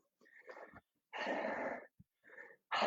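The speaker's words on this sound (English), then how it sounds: "And exhale." Breathy exhalations at the end of a balance exercise on tiptoes, several separate bursts of air with short pauses between them, close and fairly loud.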